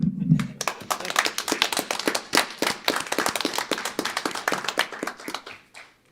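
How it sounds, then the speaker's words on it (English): Steady, dense applause fills a city board of aldermen meeting room in Southaven, Mississippi, in honor of a police officer: many hands clapping fast and close for about six seconds before tapering off at the end. "would you lead us in a round of applause for our officer?"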